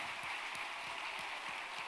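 A church congregation applauding the music team, a steady, even wash of many hands clapping at some distance, fairly soft and without talk over it.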